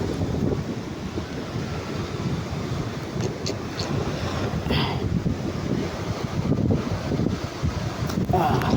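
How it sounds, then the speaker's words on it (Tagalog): Strong wind buffeting the microphone at the seaside while fishing, a continuous rough rumbling gust with surf behind it, steady and close throughout. "napansin ko nga po na napakalakas na ng hangin dito sa pwesto ko"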